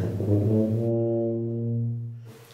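A tuba sounds one long, low, warm note held for about two seconds, steady and full, with nothing else audible.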